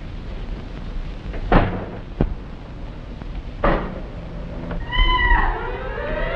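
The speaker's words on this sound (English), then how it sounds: "It was only a cat." A cat meows a few times indoors at night, sharp short cries with quieter gaps, ending in a longer drawn-out wail.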